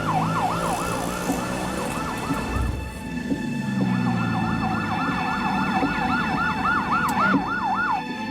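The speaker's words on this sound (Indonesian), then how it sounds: "Pasti ini ambulans." An ambulance siren wails in a steady, fast repeating rise-and-fall cycle throughout, loud and close, with engine and road noise beneath and a short pause in the pattern partway through.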